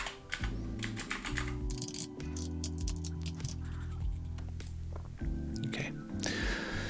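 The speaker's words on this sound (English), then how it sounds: "A lot of typing now, but we can do it." Rapid, close clicking of computer keyboard typing runs in uneven bursts with short pauses, with a quiet background hum and faint talk.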